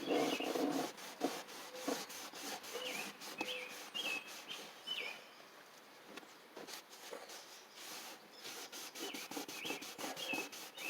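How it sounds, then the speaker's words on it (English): A cloth or brush scrubs the inside of a van with Super Clean cleaner, producing repeated close rubbing strokes with faint squeaks and light rasps. "So a little bit of scrubbing"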